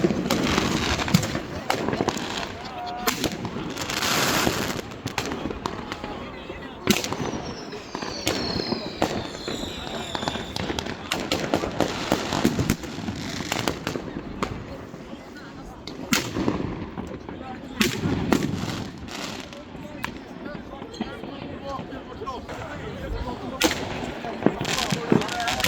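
New Year fireworks burst over a crowded bridge in Sweden, with irregular loud bangs and crackling explosions echoing repeatedly throughout, while a crowd murmurs and cheers underneath.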